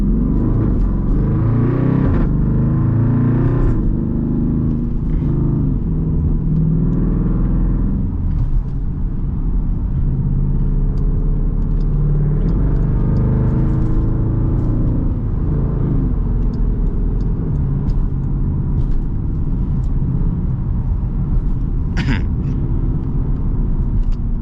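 A straight-piped SRT Jeep rumbles steadily from inside the cabin while driving, a deep continuous engine drone with occasional swells as it accelerates, and no talking over it.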